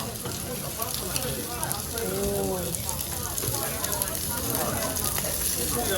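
Pre-seared pork jowl with skin sits on a grate over a yeontan coal-briquette fire at a Korean barbecue restaurant, giving a steady, dense sizzle and crackle under the chatter of a busy dining room.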